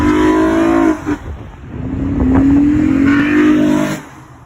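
A Honda Pilot's 3.5 liter V6 revs up loudly nearby, its tone rising and dipping, then climbing again in a second long, sustained pull before dropping off.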